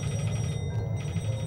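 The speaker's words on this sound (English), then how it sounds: "Someone's calling." Telephone ringing indoors: a steady, continuous electronic ring with a brief dip partway, no voices.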